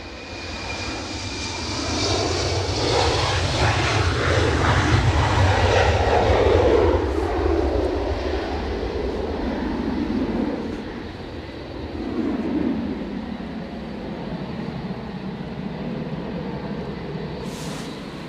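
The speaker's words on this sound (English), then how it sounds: "An Embraer 190 off to London City." An Embraer 190 jet departs windy Edinburgh Airport for London City, its deep engine rumble swelling to a loud peak and then slowly easing off into a long, fading roar.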